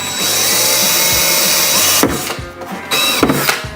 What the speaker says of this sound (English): I'm not going to drill too hard